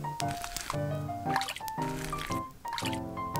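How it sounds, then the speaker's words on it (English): A chicken is placed into water in a small pot while miniature cooking, producing repeated wet drips, squishes and sloshes at close range, with a tonal background running underneath. "Put the chicken inside."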